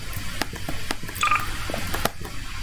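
Telephone keypad tones in Garry's Mod on a Star Wars map, a short burst of several quick electronic dialing beeps over a noisy background with scattered clicks.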